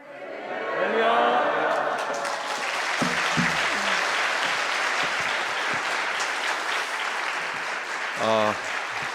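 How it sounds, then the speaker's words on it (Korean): A church congregation at a Sunday evening New Year revival service breaks into sustained applause welcoming the pastor to the front, the clapping filling the room while a voice speaks over it and brief tones sound near the end. "우리 오른손 들고 환영하며 하나님께 박수 영광 돌리도록 하겠습니다."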